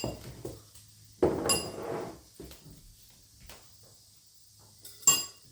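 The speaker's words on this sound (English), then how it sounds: "I'm going to just go in with a heaping spoon of the taco seasoning" A metal spoon clinks against glass canning jars a few times, with sharp isolated taps separated by quiet pauses, while taco seasoning is spooned into them.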